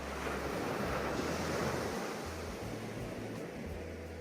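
Ocean waves break and wash steadily at Paradise Beach in Gokarna, a continuous surf roar with wind buffeting the microphone, no voices.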